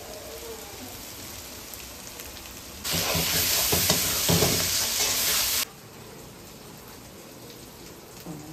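Ginger paste and spices drop into hot oil in a pan, a sudden loud burst of dense crackling sizzle lasting about three seconds before dropping back to a quieter steady fry.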